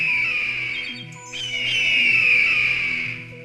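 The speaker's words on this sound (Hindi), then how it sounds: "उन दोनों बाजों की आवाजें भी काफी तेज थीं।" Cartoon hawks let out shrill, drawn-out screeching cries in a forest scene, blending with the thin wailing of a small bird. The loud, sustained tones waver and swell across several seconds.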